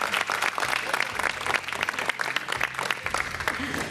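A studio audience claps during a Ramzan iftar television transmission, dense applause running throughout over a low background hum.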